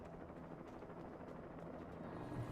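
A helicopter in the video game Alan Wake, a steady low rotor drone that stays even and fairly faint, with no talk over it.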